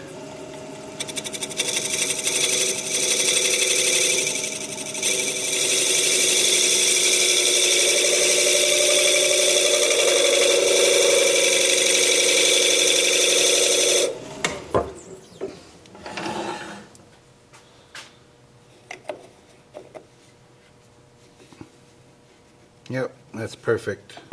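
A lathe spins as a blade cuts into turning wood, a loud sustained whir with a high cutting tone for about fourteen seconds, then stopping, followed by scattered knocks and handling sounds while someone talks.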